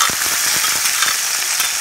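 Chopped onion hisses and crackles in hot oil in a pan where rui fish has just been fried, a loud, continuous, close sizzle with small popping spatters throughout.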